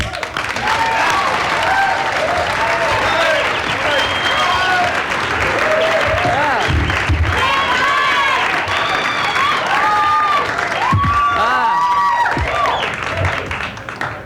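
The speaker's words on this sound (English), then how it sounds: "Please, a nice round of applause for Mr. Mike Bent" A live stand-up comedy audience at Tufts bursts into sustained applause and cheering to welcome a magician-comedian onstage, dense clapping filling the room steadily for about fourteen seconds with voices shouting through it.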